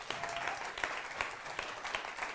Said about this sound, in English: I'll give you a huge round of applause